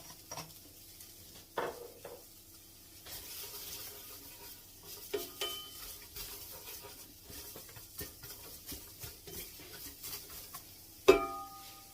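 Garlic goes into a hot pan of spices with a soft, continuous sizzle, broken by scattered scrapes and clinks of a utensil on the pan, and one sharp metallic knock near the end.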